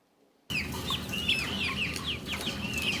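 Chickens on a poultry farm clucking and calling, several birds close by in a busy overlapping chatter that starts suddenly after a brief quiet and keeps going steadily.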